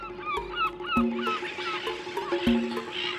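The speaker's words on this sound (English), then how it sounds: "cormorants, and gannets gather together and screech in places where the oceans are particularly rich in food." Seabirds screech and honk in a colony by the sea, with gulls, cormorants and gannets giving repeated harsh calls at close range, some overlapping, over a busy background of more distant cries.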